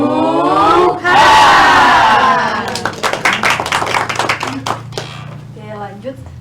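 A classroom group in a geography microteaching session shouts a rhythmic spirit chant, then breaks into sharp, loud clapping bursts in a quick pattern, with voices and claps close and energetic throughout.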